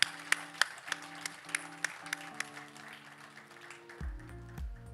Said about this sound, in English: please let's give him a warm round of applause